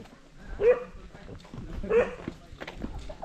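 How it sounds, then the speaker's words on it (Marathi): Two sharp dog barks ring out about a second apart, fairly close, amid background murmur and movement. "सो इकडे बरेच सारे कुत्रे आहेत"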